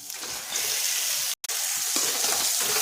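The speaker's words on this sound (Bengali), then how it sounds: "মাংসটা এখন কষা হচ্ছে।" Duck meat frying with ground spices in a pan, a loud, bright continuous sizzle broken once by a split-second dropout, with faint stirring underneath.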